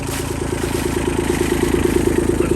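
Diesel tractor engine idling steadily after a cold start, a loud, even, rapid knock holding throughout with no talk.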